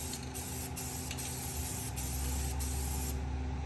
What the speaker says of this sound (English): spray a little black on from far away